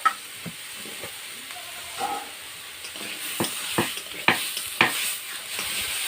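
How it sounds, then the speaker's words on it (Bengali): Cut potatoes fry in spice paste in a pan with a steady hiss under scattered sharp taps and scrapes from stirring, close and moderately loud. "এবার কেটে রাখা আলুগুলো দিয়ে দেবো।"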